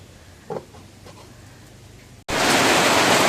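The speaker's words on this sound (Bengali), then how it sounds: "আল্লাহর রহমতের বৃষ্টি আজকে আমাদের জায়গায় শুরু হইল" Rain starting at a rural home kitchen: after a quiet stretch with a faint knock, a sudden loud, steady, hissing downpour sets in and continues.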